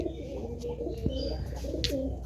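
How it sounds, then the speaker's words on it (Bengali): Pigeons cooing nearby, soft low throaty calls repeating against a steady background hum. "এই যে এসছে এগুলো চলে আসছে পায়রাগুলো"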